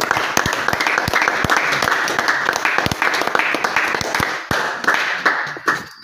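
A church congregation applauding: many hands clapping in a brisk, uneven rhythm, close and lively, fading slightly toward the end with a few scattered claps.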